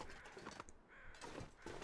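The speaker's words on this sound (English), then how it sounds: "I hear birds over here" Birds in the survival video game The Long Dark, with crow-like caws coming as a few faint, scattered calls over quiet ambient background and no speech.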